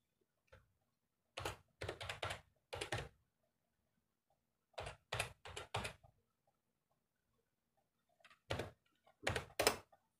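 Keys clatter on a BlueFinger RGB backlit membrane keyboard in three short bursts of quick typing separated by quiet pauses, close and fairly soft.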